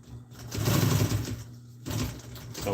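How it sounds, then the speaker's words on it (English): A sewing machine stitches across a fabric tire cover in two close, steady bursts of rapid mechanical whirring, separated by a short pause. "Sew it all the way across, come back,"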